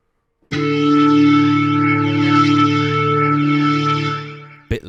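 A sustained breathy pan flute chord from Soundiron's Los Andes Pan Flutes swirls with a slow, pulsing rotator effect wobble, loud and steady, then cuts off abruptly.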